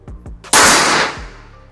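A premium SR Extraction 500cc air rifle fires its final shot: a few soft mechanical clicks, then one loud, sharp report whose bright tail decays quickly.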